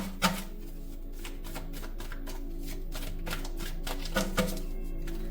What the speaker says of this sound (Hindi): मैं आप लोगों के लिए ना आज कार्ड सारे के सारे शफल कर लेना चाहती हूँ।